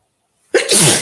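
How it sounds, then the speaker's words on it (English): A single sharp human sneeze, close and loud, bursting out after a moment of silence. "I gotta sneeze again."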